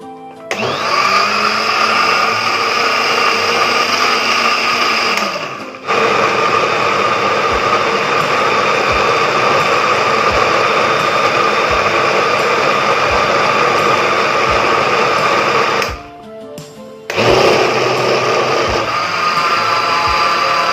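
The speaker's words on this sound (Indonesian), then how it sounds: "Oke guys, kita blender sekarang." A loud, steady blender whirring continuously as it mixes batter, briefly cutting out twice before starting up again, with no talking.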